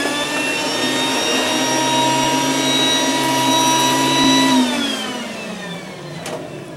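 A vacuum cleaner runs loud and steady with a strong whining hum, then its pitch sags and the motor begins to wind down near the end.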